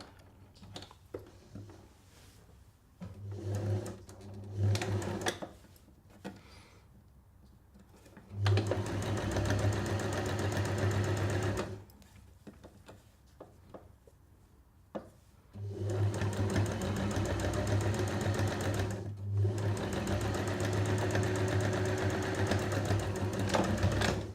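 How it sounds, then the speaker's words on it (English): Sewing machine top stitching the folded edges of a bias binding strip into a hanging loop for a reusable kitchen towel, running in several bursts of steady whirring, the longest spans stretching several seconds, with quiet pauses between. "bring those two folded edges up to meet each other and just top stitch it"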